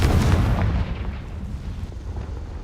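A Confringo spell explodes in the game Hogwarts Legacy with a heavy booming blast that rolls out and decays over a couple of seconds, with no voices.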